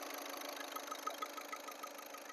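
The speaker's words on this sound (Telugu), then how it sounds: "ఇంజిన్ చూడండి ఎంత సైలెంట్గా ఉంది" A 2017 Volkswagen Ameo 1.5 TDI diesel with manual gearbox idles steadily, a quiet, even hum with a faint rhythmic diesel tick, heard alone without voices.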